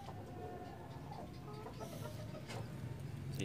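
Several chickens cluck softly and intermittently over a steady low background hum, faint and somewhat distant.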